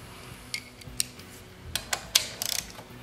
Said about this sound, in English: Yep, better use socket wrench on that.